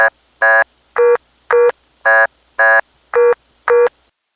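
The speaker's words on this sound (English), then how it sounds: "Here's the vacant code tone from Las Vegas." A Las Vegas vacant code telephone tone of eight identical short beeps in a steady, even rhythm, loud and clear, then silence.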